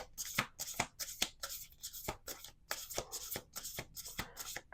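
Oracle cards are shuffled by hand in a brisk sequence of about a dozen papery riffles and slaps, close and fairly quiet, with no talking.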